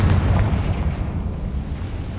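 Confringo blast spell explosion in the Hogwarts Legacy video game, a loud, dense rumbling boom that holds steady and heavy for about two seconds without fading.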